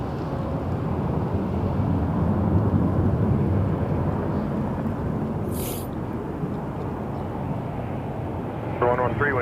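A Porter Airlines airplane at Toronto Pearson Airport, a deep steady engine roar rumbling continuously at a distance, with a brief high whine partway through.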